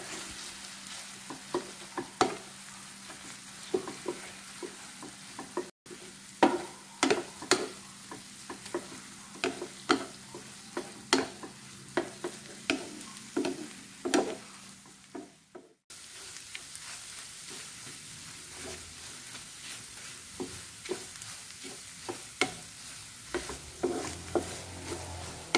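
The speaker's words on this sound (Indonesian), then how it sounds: "Kemudian kita tumis bumbu ini hingga wangi dan bumbunya agak berminyak." Ground Balinese spice paste for ayam betutu sautéing in a pan, with a steady oily sizzle under repeated scraping stir strokes. The stirring is close and rhythmic and carries on for the whole stretch, briefly cutting out twice.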